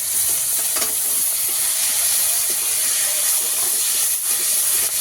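Tomato and green chilies fry in hot oil tempered with black cumin, after fish has been fried in the pan: a dense, steady sizzle that stays close and loud throughout, with faint stirring scrapes and no voices.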